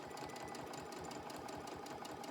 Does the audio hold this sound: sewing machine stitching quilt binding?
yes